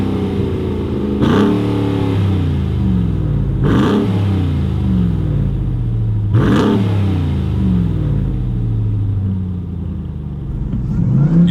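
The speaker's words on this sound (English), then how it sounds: "Anytime you touch the gas, you hear that blower whine" A supercharged V8 in a Ram 1500 TRX pickup on an off-road outing. It is revved three times in sharp, loud bursts about two and a half seconds apart, each settling back to a rumbling idle, recorded up close with no talk.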